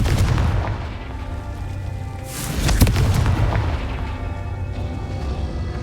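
A Confringo fire spell in Hogwarts Legacy bursts with a booming blast, followed by a rumbling tail over steady low game ambience.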